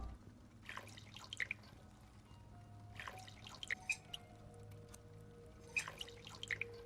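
Bubbling glug sounds in the horror video game Song of Horror, soft watery gurgles arriving in three separate clusters over a quiet low hum, faint and without speech.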